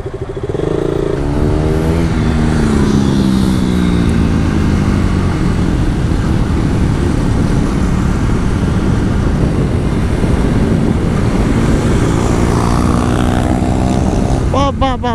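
A KTM 390 motorcycle engine revs hard during a wheelie, a loud, close, rising and falling buzzing roar that holds steady for several seconds, with a voice heard briefly near the end.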